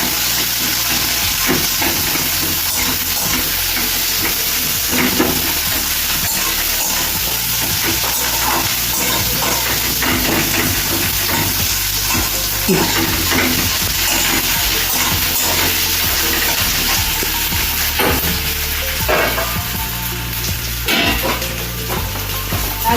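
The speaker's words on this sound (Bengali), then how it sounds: "লাল করে পেঁয়াজটা একটু ভাজতে হবে আবার" Garlic and onion frying in a pan while cooking a puffed-rice ghonto, a loud, steady sizzling hiss with frequent stirring scrapes and clinks close up, continuing without letup.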